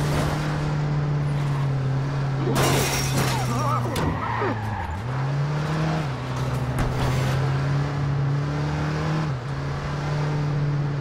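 Car driven and rammed into another car in the video game Watch Dogs, a steady engine drone with tire skids and a crunching impact partway through, under game voices and music.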